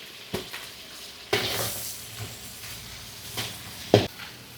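Onions sizzle in hot oil with green chillies for Hyderabadi bagara rice, a low steady fry punctuated by a few sharp spoon scrapes and clatters against the pan.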